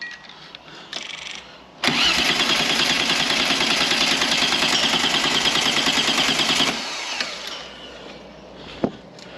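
A V6 trike engine cranks steadily on a jump pack for about five seconds without catching, loud and close, a continuous rhythmic starter churn that cuts off abruptly, followed by faint clicks.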